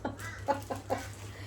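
Several short clucking calls from a chicken sound indoors under a steady low hum, spaced about a quarter second apart, moderately near and fairly quiet.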